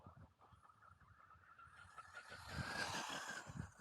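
A Jegs Stinger RC car drives outdoors, its electric motor whining and rising in pitch as it speeds up, quiet and somewhat distant, with tire noise underneath.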